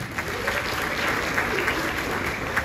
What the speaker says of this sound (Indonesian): Tepuk tangan sekali lagi buat ITERA.